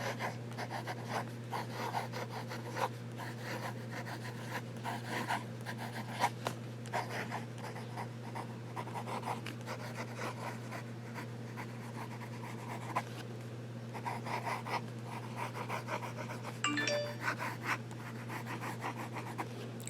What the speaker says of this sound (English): Some fast writing.